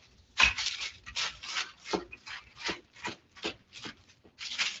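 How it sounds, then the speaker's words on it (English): Rolling pin pressed repeatedly over gyro dough on a kitchen counter, a series of soft rubbing strokes in an uneven rhythm, close and fairly quiet with no talking. "take you a rolling pin and roll that out, y'all"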